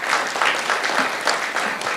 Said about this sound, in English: please give Coach Sam Shade a round of applause.